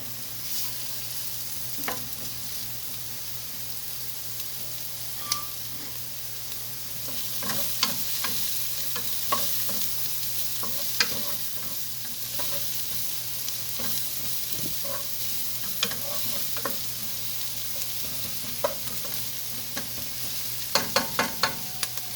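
Onions frying in a pan for chili, a continuous crackling sizzle with scattered pops and stirring clicks, steady and close throughout with no talking.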